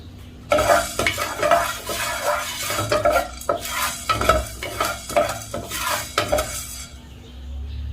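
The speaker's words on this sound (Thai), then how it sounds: "พอเราคั่วเม็ดพริกไทยแล้วนะคะ" Black peppercorns dry-roasting in a pan give a busy, rattling stir with clinks of utensil and metal in irregular bursts, fairly close, before the noise stops near the end; no talking.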